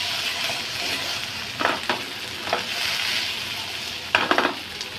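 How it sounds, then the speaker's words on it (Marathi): Taro (arbi) pieces frying and sizzling steadily in a pan over high heat, with a spoon stirring them and scraping the pan in several short bursts near the start and end, no talking. "आता हे अरबीसाठी हलवायचं. तुम्ही चमच्याने हलवू शकता, मिक्स करू शकता."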